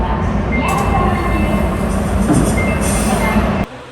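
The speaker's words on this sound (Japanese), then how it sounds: "さあ、東西線の列車がやってきました。" Orange Tozai Line subway train pulling into Shin-Sapporo station late at night, a steady loud rumble of wheels and motors with faint high squeals, cutting off abruptly near the end.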